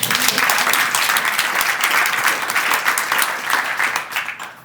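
Audience applause at a community presentation in Edina, Minnesota, a dense, steady wash of many hands clapping that holds for several seconds and begins to taper at the end.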